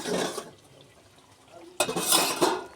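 Lote fish curry being stirred in a pot: two bursts of spoon scraping and clinking with wet, sloshing texture, separated by a quieter gap of soft simmering.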